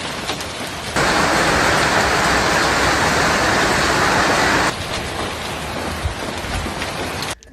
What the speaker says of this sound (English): look at the size of this hail